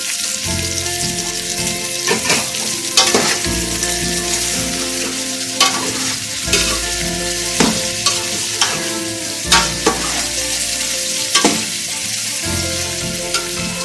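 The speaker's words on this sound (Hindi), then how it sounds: "ये अच्छी तरह से मैं इसको भून लूंगी गोश्त को।" Meat for a spiced chicken stew fries loudly in a pot, a continuous close sizzle broken by repeated scraping stirs every second or two.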